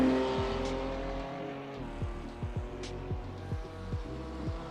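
A race car in a racing sim game, its engine revving hard through repeated upshifts with rising pitch sweeps and brief drops between gears, loud and continuous, no talk.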